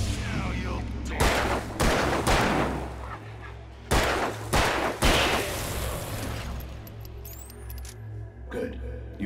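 Gunshots ring out in the Alan Wake video game, several sharp loud reports spaced across the scene over a steady low background drone, with a brief burst near the end.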